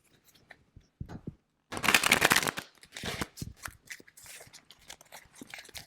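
Tarot cards being shuffled, a close, crisp riffling burst in the middle followed by several shorter shuffles and card flicks at irregular intervals, loud and alone.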